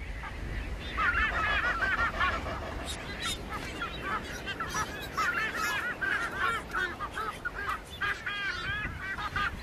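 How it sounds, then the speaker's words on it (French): A colony of masked boobies on flat ground atop sea cliffs, many birds giving dense overlapping honking calls throughout, loud and near, with a voice speaking over them. "Les fous masqués ont élu domicile sur un terrain plat,"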